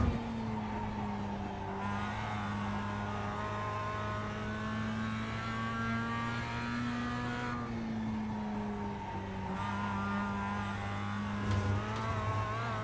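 A Mazda MX-5 lapping the Nürburgring Nordschleife in a racing game, its engine droning steadily with a sustained tone that rises and falls as the car shifts and corners, close and continuous throughout.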